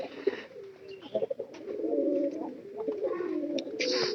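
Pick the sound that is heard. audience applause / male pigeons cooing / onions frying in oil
male pigeons cooing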